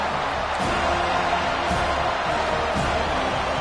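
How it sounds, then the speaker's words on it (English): A packed football stadium crowd roars steadily to spur on the home defense, a dense, sustained wall of cheering and noise. "Listen to this crowd just shaking the girders of this place, trying to help their defense"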